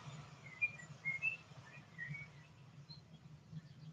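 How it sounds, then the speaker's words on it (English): Birds chirp and whistle faintly around a home in the morning, scattered short calls over a low steady hum, distant and quiet. "I love hearing the birds around my home."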